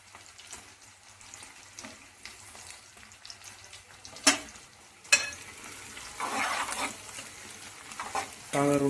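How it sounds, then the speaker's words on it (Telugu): Green chillies fry with a steady sizzle while being stirred alongside salted, spiced fish for korameenu pulusu, with scraping stir strokes, a couple of sharp clanks, and a louder burst of sizzling near the end. "నెక్స్ట్ అయితే పచ్చిమిరకాయలు వేసేద్దామండి."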